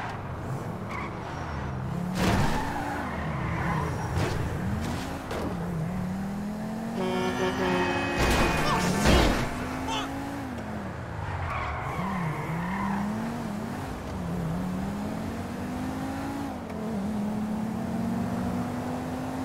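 In the video game GTA 5, a car skids with squealing tires and sliding engine revs throughout, broken by sharp impact bangs of a crash near the middle, loud and continuous.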